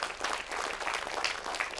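Audience members applaud in a brief, steady wash of clapping at a religious talk show taping, at moderate distance with no talk over it.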